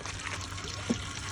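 Water from tomato pulp drains through a cloth sheet, a soft faint steady trickle and dribble with a brief splash near the end, heard quietly on its own.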